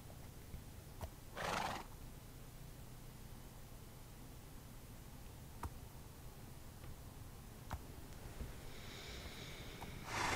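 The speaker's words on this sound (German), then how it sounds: "Tut mir leid, wenn ihr jetzt hier nur die scheiß Pferde seht." Horses in the video game Minecraft whinny loudly once early on and again near the end, with a few faint clopping ticks of hooves between, over a steady low game hiss and no talking.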